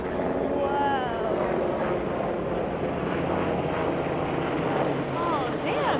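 An airplane passes overhead at an airshow, a loud steady engine roar filling the whole stretch, with crowd voices faintly beneath.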